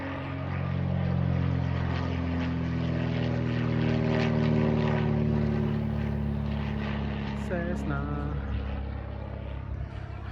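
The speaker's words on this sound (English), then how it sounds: "look at the guy coming with the plane over the lake" A small propeller plane flying over a lake drones steadily overhead, its engine tone shifting slightly as it passes, with faint outdoor ambience and no talking.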